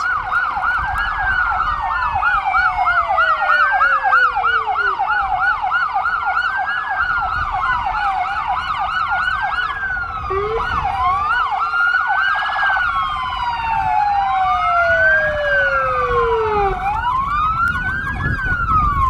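Emergency sirens wail loudly and nearby, several overlapping wail and yelp patterns rising and falling continuously over traffic rumble.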